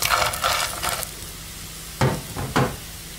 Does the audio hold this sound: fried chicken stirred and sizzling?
yes